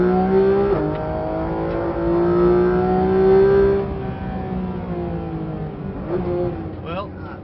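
Porsche 911 GT3 RS engine droning from inside the car while driving on a track, its pitch climbing steadily and then falling away, with small pitch shifts near the end.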